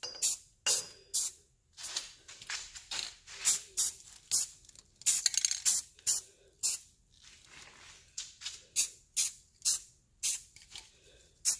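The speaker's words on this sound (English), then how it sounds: "I'm gonna just start spray painting it and see how it goes." Short repeated bursts of spray paint from an aerosol can hiss onto a medicine cabinet, about two dozen quick blasts in an uneven rhythm with brief pauses between, close and fairly quiet.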